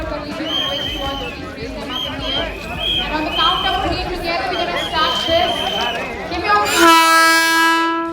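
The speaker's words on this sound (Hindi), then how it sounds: "ये जो ट्रेन है यहाँ से रवाना हो रही है" A cargo train departs India's largest cargo rail terminal at Manesar, Gurgaon, during a flag-off ceremony, with crowd chatter and rumbling through most of the clip, then a loud, sustained horn blast near the end.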